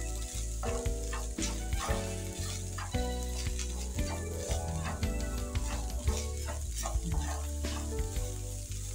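Beef spaghetti with mixed spices stir-fried in a pan, a steady loud sizzle running the whole time with repeated scraping and clattering stir strokes, no talking.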